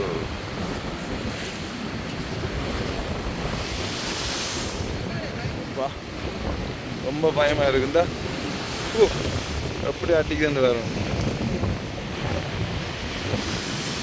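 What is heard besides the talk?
rough sea waves and strong wind at Point Pedro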